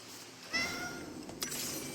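A cat in Dragon Age The Veilguard, a short, fairly faint meow near the start followed by a second brief sound, against quiet ambient background.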